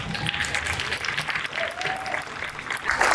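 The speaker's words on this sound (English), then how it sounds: "everyone, please give a round of applause and stand for our 2022 Vanguard Award recipient, the Ruth Carter." A standing audience at the 2022 NAACP Image Awards applauds a costume design honoree, with continuous dense clapping and some cheers, growing louder near the end.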